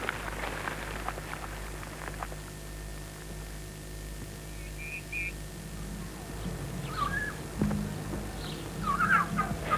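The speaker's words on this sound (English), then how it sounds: "I bet the Roman senator wouldn't have had these turkeys rushing about this very formal garden in Roman times, Tim." Turkeys gobble in bursts through a steady hum in a formal garden at a Roman villa in Tuscany, the calls rising toward the end at middle distance.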